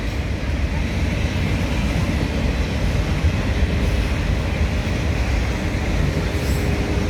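Norfolk Southern autorack freight train passing close by, a loud, steady low rumble and rolling roar that holds constant throughout without letup.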